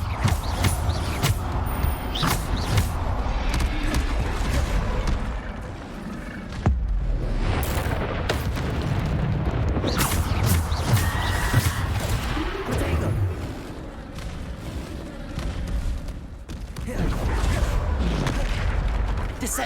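Bombarda explosion spells go off in the Hogwarts Legacy video game, a dense run of booming blasts, thuds and clattering debris with spell effects layered over continuous game noise.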